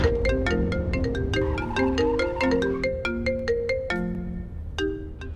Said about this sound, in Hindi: लीजिए, आ गया आपकी मॉम का कॉल। तुम्हारा फोन।